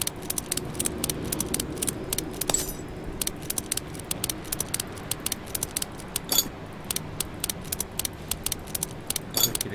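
Rapid mechanical clicks and ratcheting taps of lug nuts coming off in Car Mechanic Simulator, sounding in quick bursts over a low steady background with a few sharper clunks, no talking.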